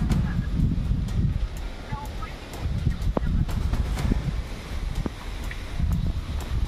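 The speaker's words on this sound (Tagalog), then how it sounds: "Sobrang hangin po ngayon" Strong outdoor wind gusts buffet the microphone in loud, rumbling waves, rising and easing over several seconds, with occasional rustling and small clicks mixed into the steady roar.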